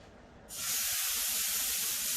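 A seasoned steak hits a hot pan and bursts into a loud, steady sizzle that starts abruptly and carries on without a break, close and alone with no talk.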